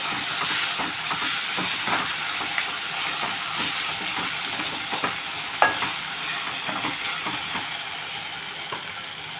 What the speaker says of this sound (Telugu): అల్లం పేస్ట్ కొంచెం వేస్తున్నాను పచ్చివాసన పోయే వరకు మనం వేసుకొని